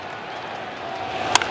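A sellout baseball crowd cheering in St. Louis at a Cardinals game against the Toronto Blue Jays, a broad, steady stadium roar with a sharp impact near the end, and no talk.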